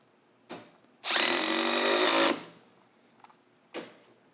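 A Milwaukee M12 FUEL Surge hydraulic impact driver drives a screw in one smooth, loud burst of just over a second. Softer clicks and taps come before and after it in an otherwise quiet space.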